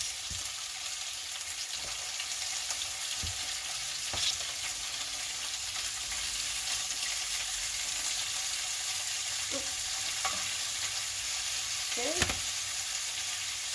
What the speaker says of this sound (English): Let the pork meat cook and toast.